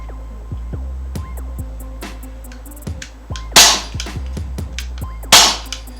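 Two sharp shots from an Umarex T.A.C. .177 caliber air rifle, close and abrupt cracks a couple of seconds apart over a humming, whirring background.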